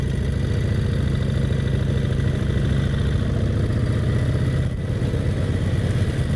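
A Brough Superior SS80 big V-twin motorcycle runs steadily at low revs, a loud, close, continuous deep engine throb with a brief dip near the end, no talking.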